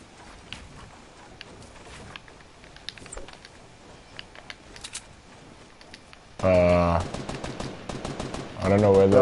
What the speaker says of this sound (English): I don't know where those shots are.